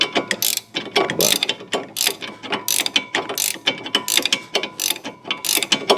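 Hand ratchet tightening a front stabilizer end link on a 2007 Pontiac G6 in a tight space, a close, loud run of rapid rhythmic clicking strokes repeating steadily, no talk.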